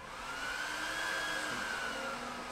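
Cryptocurrency mining rig with ASUS B250 Mining Expert board and AMD RX and Nvidia P106 cards, its fans roaring at full speed like a hair dryer, a loud steady whoosh with a faint whine.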